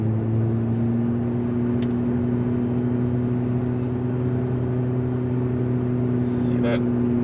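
A 2024 Abarth 500e Turismo electric car accelerates with its simulated engine sound, a steady droning tone with sharp harmonic bands held throughout, loud and close from inside the cabin.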